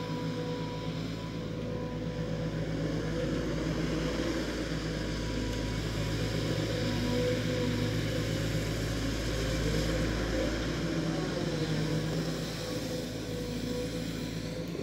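A heavy machine's engine runs at a steady mid-throttle while prying a large buried tree stump from the ground, a continuous loud diesel drone with an even rumble throughout.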